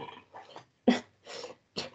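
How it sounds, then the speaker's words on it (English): A dog gives a few loud, close, guttural belch-like grunts in short bursts with brief silent gaps between them. "my dog just belched really loudly behind me."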